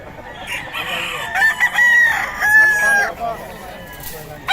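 A young rooster (a stag) crows in a stretched, wavering call amid clucking fowl at a Bocaue market. The bird is close and loud, with faint crowd noise underneath.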